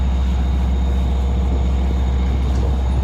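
A westbound mid-afternoon Long Island Rail Road train sits at Speonk, its engine giving a steady, loud, low rumble with no talk.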